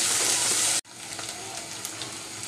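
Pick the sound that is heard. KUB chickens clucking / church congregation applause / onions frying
onions frying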